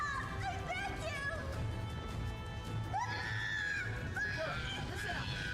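Distant screams and battle cries rise and fall in a chaotic Drakengard 3 battlefield scene, overlapping in a shrill hubbub above a low rumbling bed.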